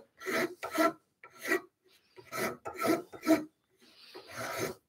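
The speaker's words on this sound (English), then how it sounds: "Japanese rasp again will blend in nicely." A Japanese rasp files wood on an Adirondack chair in a series of distinct rasping strokes, about seven short bursts with brief pauses between them, close and clear.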